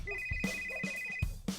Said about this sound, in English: but the phones kept ringing